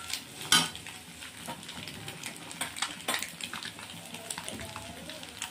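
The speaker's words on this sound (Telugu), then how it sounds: "ఇప్పుడైతే మంచిగా ఫ్రై అయిందనమాట, ఫ్రై చేసుకోవాలి" Vegetables fry in a pan with a steady, close sizzle, broken by occasional stirring scrapes and a sharp clink of the utensil against the pan.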